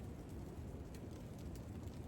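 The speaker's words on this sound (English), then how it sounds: "It's not rain, it's like little icy rain." Icy rain or sleet falling steadily outside in a freezing forest, a faint, even hiss of tiny pellets with occasional soft ticks, no voices, continuous throughout.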